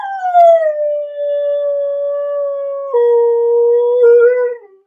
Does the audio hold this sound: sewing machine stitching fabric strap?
no